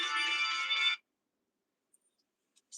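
A phone ringtone plays steadily for about a second, loud and close, then cuts off into near silence.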